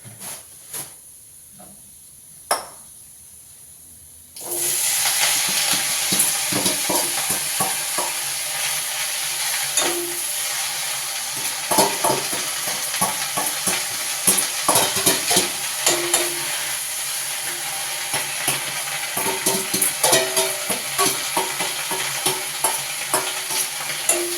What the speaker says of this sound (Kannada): ಇವಾಗ ಅದನ್ನು ಫ್ರೈ ಮಾಡೋಕ್ಕೆ ಇದನ್ನು ಒಳಗಡೆ ಆ್ಯಡ್ ಮಾಡ್ತೀನಿ